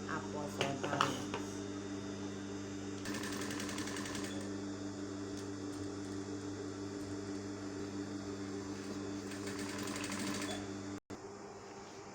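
A sewing machine stitching a fabric placket, a steady mechanical whirring hum running under the whole stretch, with two bursts of brighter rattling stitching and a brief cutoff near the end.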